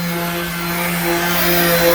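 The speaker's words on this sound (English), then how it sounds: "sanding the hood" A steady mechanical whir with a constant hum, a power sander working on a car hood continuously at close range, holding an even level throughout.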